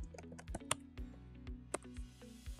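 Close, quick clatter of keys on a computer keyboard as data is typed into a spreadsheet, irregular bursts of taps with a few sharper strokes, alone without voices.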